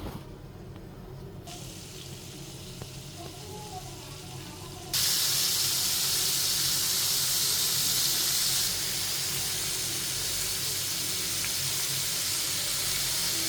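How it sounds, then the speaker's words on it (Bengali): Loitta (Bombay duck) fish pieces dropped one by one into hot oil for a Cox's Bazar-style fry, giving a steady hissing sizzle that jumps louder partway through and then holds, with no talking. "এক এক করে আমি এখন সব দিয়ে দিব ভাজতে"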